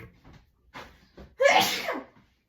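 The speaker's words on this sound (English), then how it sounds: "okay, I'm gonna sneeze." A single close, loud human sneeze comes after a few soft breaths and small sounds, in a quiet kitchen while making pizza dough.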